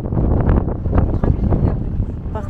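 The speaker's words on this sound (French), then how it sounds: "Par contre il y a beaucoup de vent," Strong wind buffets the microphone outdoors at Monument Valley, a continuous loud roaring rumble with gusty swells throughout and no clear voices.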